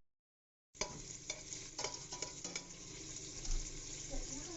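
After a moment of silence, chicken skins sizzle and crackle in a pot for mung bean soup, a continuous frying hiss punctuated by stirring scrapes and clinks of the utensil against the pot.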